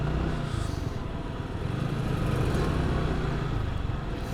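A motorcycle rides along a smooth road between Kalurghat and Karnaphuli bridges, giving a continuous engine drone mixed with rushing wind, steady and fairly faint throughout.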